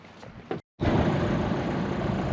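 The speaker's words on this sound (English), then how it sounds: "Firing up the engine." A sailboat engine catches after a brief silence and settles into a steady, loud, continuous rumble.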